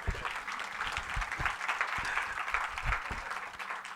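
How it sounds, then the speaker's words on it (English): An audience at a studio kitchen inauguration breaks into applause, a continuous mid-level clatter of clapping with a few heavier hand claps standing out, no speech over it. "Let's give a big round of applause."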